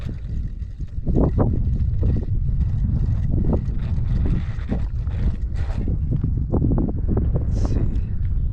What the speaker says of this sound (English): This wind is blowing straight in my face too.